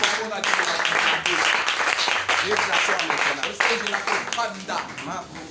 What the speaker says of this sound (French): On acclame pour la parole de Dieu.